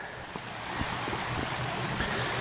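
A shallow stream runs through a New Hampshire forest campsite, pooling in a rock-dammed water hole. Its steady broadband rush stays even and close throughout, with no voices.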